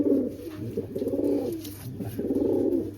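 Pigeons coo close by in soft, rhythmic rolling phrases, three or so swelling bursts of low throaty cooing over a few seconds, with no talking.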